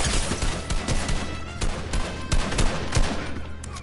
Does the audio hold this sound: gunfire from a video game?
yes